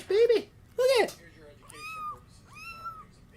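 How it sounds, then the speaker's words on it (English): A newborn kitten meows close by, two short loud cries followed by two thinner, longer mews. "Here's a baby kitten. Just had a fresh baby."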